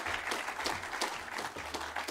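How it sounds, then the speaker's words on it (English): A crowd applauds at a Summer Fishtrap gathering, a short, steady wash of clapping at moderate, somewhat distant level. "Much applause"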